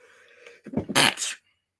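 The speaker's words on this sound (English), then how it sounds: "I need to sneeze." A single close sneeze, a short breathy build-up then a sharp burst, in a quiet room.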